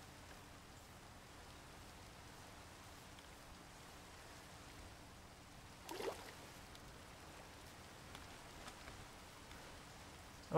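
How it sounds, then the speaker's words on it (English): Rain falling in the video game World of Dragons: a soft, steady hiss of rainfall, faint and even, with one brief louder splash partway through. "It's raining."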